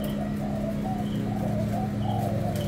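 Thai speed spotted doves cooing, soft repeated low coos sounding steadily over a constant background noise, fairly close.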